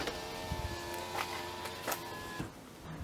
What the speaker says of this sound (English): don't run the motor, and roll the windows down.